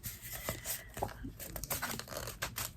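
Paper packaging from a Temu junk journal haul being torn and crinkled close up, short rustling rips in quick irregular bursts.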